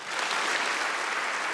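Thick, continuous applause from a large audience in a parliamentary congress, a loud uniform wash of clapping lasting a moment.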